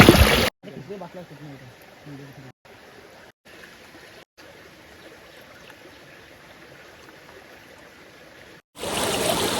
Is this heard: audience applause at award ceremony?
no